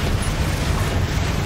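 Bombarda explosion spell cast in Hogwarts Legacy, a dense, sustained blast rumble with a heavy low-end roar that holds steady and loud through the whole moment.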